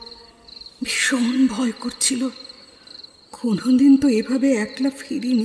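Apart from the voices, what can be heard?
continuous chirping of crickets at night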